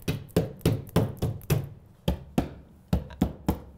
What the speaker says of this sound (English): I'm going to pound on the wall